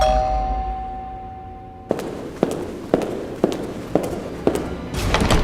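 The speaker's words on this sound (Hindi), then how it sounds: "घर की घंटी बजती है।" A doorbell chime in an animated Hindi horror story rings out as a sustained tone that slowly fades, followed by a series of sharp, evenly spaced metallic clangs, loud and with no voices.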